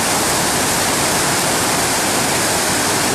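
Salmon River water pouring over a rock near Challis, Idaho, a loud, steady broadband rush of whitewater that fills the whole clip with no break.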